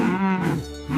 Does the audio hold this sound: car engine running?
no